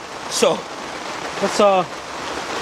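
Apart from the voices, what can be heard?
heavy rain pouring outdoors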